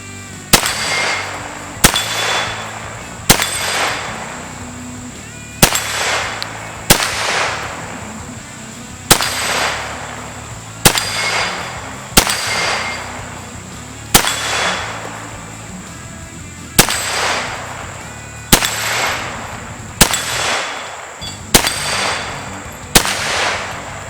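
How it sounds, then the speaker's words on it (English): An Extar EP9 pistol fires a full magazine at a 25-yard range: about seventeen sharp, loud reports with roughly one to two seconds between shots, each followed by a short echoing decay. "Let's go ahead and dump the mag, see if it feeds all of this."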